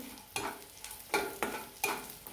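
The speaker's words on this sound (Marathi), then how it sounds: "तो त्याच तुपामध्ये तळून घ्यायचा." Edible gum (dink) frying in hot ghee in a pan, a steady sizzle broken by several sharp scraping stirs at regular intervals.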